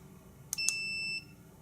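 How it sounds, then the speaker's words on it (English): An automotive battery tester with a poor clamp connection gives a couple of quick clicks followed by one sustained high-pitched electronic beep lasting about half a second, close and clear against a quiet background. "if it beeps like that, it means it's not hooked up properly"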